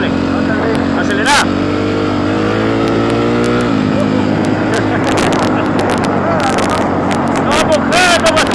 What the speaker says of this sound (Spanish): Acelera la moto un poco, dale.